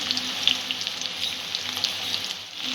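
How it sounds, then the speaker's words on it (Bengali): A steady hiss of potatoes frying in a pan, crackling and sputtering continuously with small pops, no voices. "আলুটা কিছুটা ভাজা ভাজা হয়ে গেছে।"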